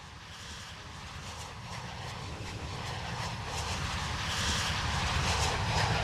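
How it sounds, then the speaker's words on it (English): EasyJet airliners pass overhead in the train simulator Train Sim World 6, a broad jet engine roar that swells gradually louder over several seconds, with no talking. "Got some EasyJet planes."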